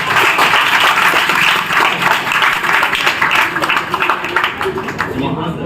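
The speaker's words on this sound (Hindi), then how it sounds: "राज सभी जोरदार तालियां होंगी" An audience at a pharmacy and paramedical college event in Hazaribagh claps loudly and continuously, a thick, close patter of many hands with a voice speaking over it.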